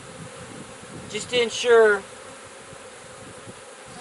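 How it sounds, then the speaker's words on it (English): Honey bees buzz steadily around an open hive during a queen-rearing session, a soft, continuous drone under a brief spoken remark. "I'll smoke the bees off the top bars here"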